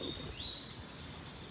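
A caged sibite (a small songbird) gives faint, high chirps and short song phrases over a low background rumble, with no voices.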